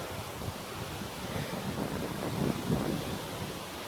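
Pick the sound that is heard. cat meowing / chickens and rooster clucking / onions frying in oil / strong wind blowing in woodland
strong wind blowing in woodland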